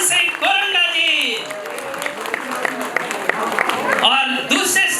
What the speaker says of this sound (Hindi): एक बार तालियां बिल्कुल रुकनी नहीं चाहिए